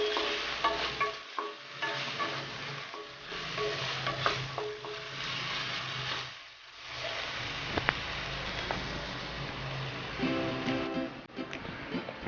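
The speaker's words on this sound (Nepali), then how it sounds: "यसलाई पनि मजाले चलाइदिउँ एकचोटि। अदुवा लसुनको पेस्टलाई एकछिन पाक्न दिउँ।" Ginger garlic paste sizzles in a hot pan while a spoon stirs it, with steady frying hiss and scraping stirs rising and falling over several seconds, close and fairly loud.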